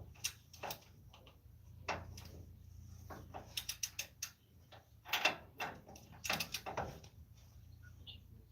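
Faint clicking and ratcheting as a wrench tightens a part during axle repair on a 2014 Dodge Ram 1500, in irregular bursts over a low hum.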